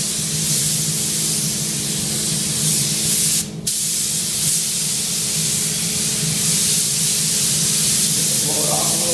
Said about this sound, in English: Oops, we're going to start the boot. Just spray over it.